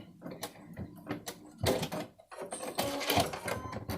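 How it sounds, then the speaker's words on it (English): A sewing machine runs in short close bursts as it back stitches through folded fabric straps, with brief mechanical whirring pauses and thumps between passes, no voices. "we're going to go ahead and use back stitch a few stitches there to lock it in"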